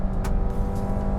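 A Maruti Suzuki XL6 petrol engine revs hard with a steady, throaty drone, loud and close, its note holding without a break for a moment.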